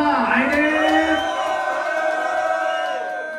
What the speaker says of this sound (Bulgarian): Искам да извикате силно и за двамата!